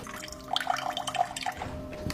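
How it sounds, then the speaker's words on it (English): Cold water runs from a kitchen tap with splashing and dripping detail, a steady moderate wash of liquid sound with small bright drops throughout, no voices. "This is our cold water pressure in the kitchen."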